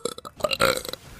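A long, gurgling human burp rolls out loud and close, rising and breaking up before trailing off, with no words spoken over it.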